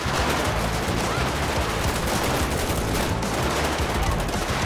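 Automatic gunfire in a GTA 5 police SWAT mission using the LSPDFR mod, a dense, continuous, loud barrage of rapid shots that fills the whole stretch with no clear pauses.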